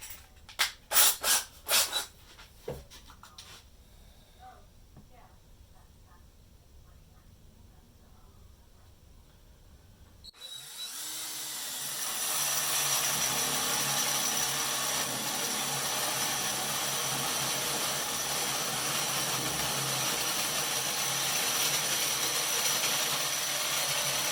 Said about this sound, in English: You need nice bit, wood cutting bit, drill.